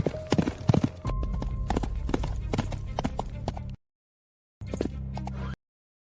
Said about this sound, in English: I'm riding out of town. Bring my horse.